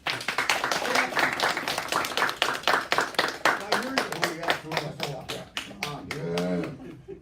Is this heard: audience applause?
yes